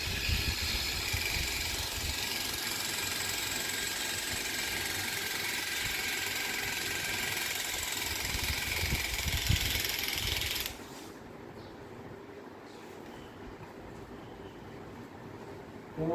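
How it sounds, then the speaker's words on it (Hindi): A wind-up 16 mm film camera runs with a steady mechanical whir and faint ratcheting, close and continuous, then cuts off abruptly, leaving a quieter hum. "केवल चाबी भरिए और कैमरा चालू"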